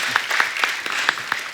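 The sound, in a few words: studio audience applause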